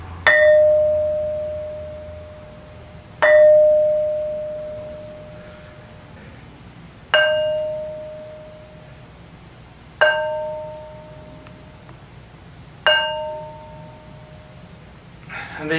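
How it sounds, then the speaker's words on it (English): An ancient stone is struck like a bell, giving five clear metallic strikes spaced a few seconds apart, each ringing tone sustaining and slowly decaying in a long reverberating tail. "this thing really rings like a bell, and it reverberates for quite a long time"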